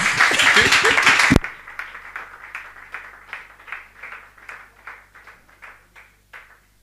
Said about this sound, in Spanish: Al menos un fuerte aplauso para ustedes mismos.